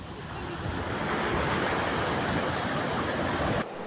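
Sea waves wash steadily at a beach in Krabi, Thailand, a loud, close, broadband surf rush that continues without break for several seconds before cutting off abruptly.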